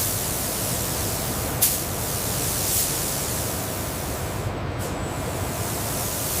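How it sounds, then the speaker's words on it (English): Robotic nozzles spray solvent across a composite delta wing panel on a Mirage 2000 in a steady, even hiss that runs throughout, with faint clicks on top. "robotic spray nozzles apply a specialized solvent"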